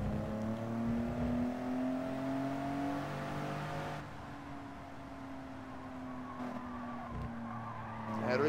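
A car in Gran Turismo 7 skids off the track, a long steady tire squeal over a droning engine that eases off partway through, close and sustained.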